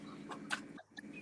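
Chickens clucking in a farm pen where birds are raised for harvest, a few short close clucks and calls over a steady low background hum, with a brief quiet gap near the end.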